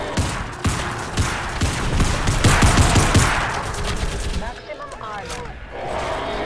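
Pistol gunfire in the shooter game Crysis Remastered comes as a rapid, loud volley of shots over dense battle noise, followed by a quieter stretch of background game sound.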